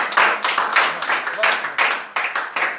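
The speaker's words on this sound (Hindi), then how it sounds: "जोरदार ताली बजाइए।" Students in a classroom clapping loudly together, a close, strong burst of rhythmic handclaps in repeated waves lasting about three seconds.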